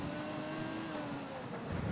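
A sports car engine in Ghost Recon Wildlands drones and climbs in pitch as it accelerates, a steady close whine under broad road noise, with no talk.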